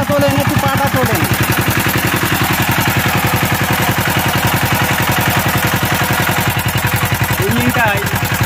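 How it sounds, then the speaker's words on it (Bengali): A CD engine runs with an abnormal extra noise, giving a loud, steady, rapid chugging beat close at hand. Brief voices cut in over it near the start and again near the end. "বন্ধু একটা ইঞ্জিনের সাউন্ড শোনেন, দেখেন কি ব্যাপার।"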